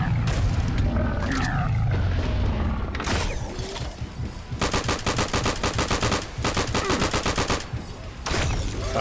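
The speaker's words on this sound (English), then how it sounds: "Now let's use grenades to kill that one in the back." Grenade blasts and rapid gunfire from the first-person shooter Serious Sam (SamCraft mod), heavy low booms early on followed by dense bursts of automatic fire in repeated volleys, loud and close throughout.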